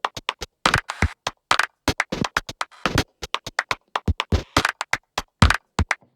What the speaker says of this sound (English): here's the claps just with the break.